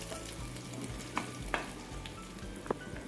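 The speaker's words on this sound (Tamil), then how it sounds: "இதை சேர்த்த உடனே அந்த கடுகு எல்லாம் இதில் நல்லா மிக்ஸ் ஆகிற அளவுக்கு நல்லா கிண்டி விடுறோம்" Foxtail amaranth chutney with mustard seeds is stirred in a pan over steady low sizzling, with a few soft scrapes of the spoon against the pan close by.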